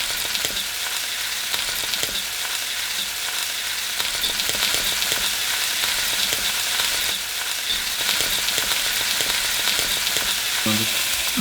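Beef sizzles and fries in hot oil on high heat, a steady loud crackle and hiss running throughout with occasional stirring clatter near the end.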